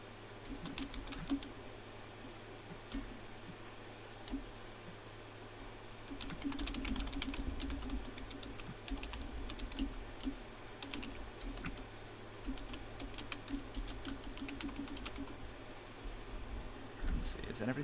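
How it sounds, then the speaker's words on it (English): Rapid clicking of computer keyboard typing runs steadily throughout, close and fairly quiet, with faint voices and a low background hum underneath. "Hang on a second, I'm typing."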